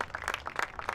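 A soccer crowd claps for a substituted player, with quick, steady handclaps at moderate distance.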